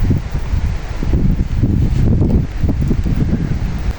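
Wind blows hard outdoors, buffeting the microphone in a loud, continuous low roar that surges unevenly.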